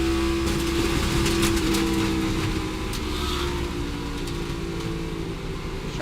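A NASCAR stock car engine during a 2024 race incident, a steady droning roar with a sustained mechanical hum, heard at a distance against a noisy, continuous background.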